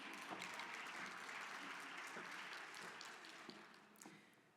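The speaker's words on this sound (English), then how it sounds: "Go ahead, applause." Faint, dense applause from a conference audience after a fireside chat with a senior accessibility strategist, a steady wash of many hands clapping that tapers slightly toward the end.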